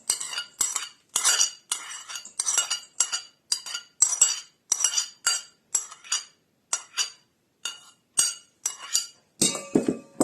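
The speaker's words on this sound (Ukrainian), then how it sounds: "висипаємо оселедець наш подрібнений, цибульку" Chopped herring and onion spooned into a bowl for forshmak, heard as a rapid series of crisp clinks and scrapes of metal on glass or crockery, close up and evenly repeated with short silent gaps.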